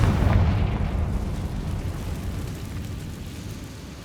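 A Confringo fire-spell blast in the Hogwarts Legacy video game, a heavy booming explosion that hits hard at the start and then rumbles and decays over several seconds, with no speech.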